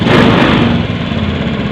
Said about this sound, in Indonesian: Memang kalau injeksi awal hidup mesin tinggi dulu ya, kemudian berapa detik dia akan ambles lagi.